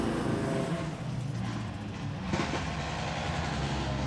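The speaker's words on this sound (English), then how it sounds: "In the background, you can hear the growl of Kristoffersson's car as he lines it up for a pre-warm." A Ford rallycross car driven by Kristoffersson growls on the starting grid at the 2017 World RX round in Sweden, a steady low engine rumble held continuously with broadband noise and no talk.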